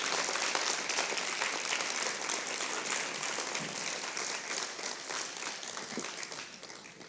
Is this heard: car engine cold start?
no